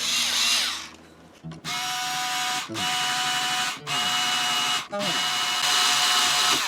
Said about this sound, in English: Love my string winder. Get those strings off of here.